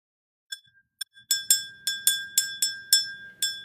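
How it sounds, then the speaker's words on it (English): A small bell rung about ten times in an irregular sequence, each strike a bright ringing ping that decays quickly, starting with a few soft taps and then growing louder and clearer, close to the listener with no talking. "Let's ring this bell."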